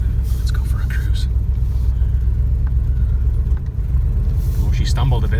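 A 1975 Pontiac Grand Prix with a 455 V8 and a new fuel pump, back on the road after 25 years stored in a barn, rumbles steadily and loudly from inside the cabin while driving, with a brief dip partway through.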